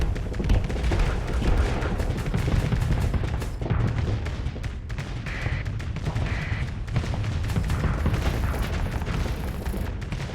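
Kinetic weapons pound a spaceship in the space combat game Starsector, a relentless mix of rapid shots and dull booming impacts that keeps up dense and loud throughout.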